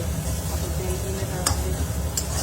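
Chow mein stir-frying in a pan, a soft continuous sizzle with a few sharp scraping ticks from stirring, steady and moderately quiet, with no talk.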